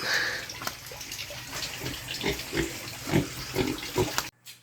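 Pigs grunting and snuffling in a pen, several short grunts at irregular intervals, fairly close, with a steady background hiss and occasional splashing.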